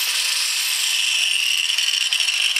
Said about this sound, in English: This is my angle grinder with my cutoff wheel on it.